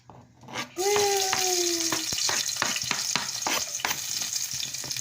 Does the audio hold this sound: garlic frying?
yes